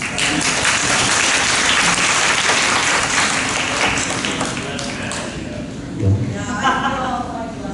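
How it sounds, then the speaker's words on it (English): An audience claps after a classroom activity demonstration during a lecture, a steady, moderately loud round of applause that tapers off, with a voice briefly emerging near the end. "let's give them a round of applause"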